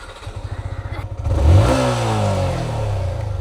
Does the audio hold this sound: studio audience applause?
no